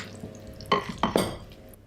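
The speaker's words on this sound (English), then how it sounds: "that will just get a good stir to mix it all together" A meat, mushroom, onion and herb mixture being stirred in a dish for a game hot pot, with a few soft clinks and scrapes of a utensil, three sharper knocks in the middle, close and brief.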